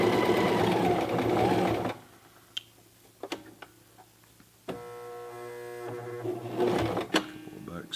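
A Toyota FSG325 sewing machine stitches a jeans hem in a short rapid burst, then pauses amid scattered clicks and a soft hum before a second run of stitching, with a voice talking intermittently.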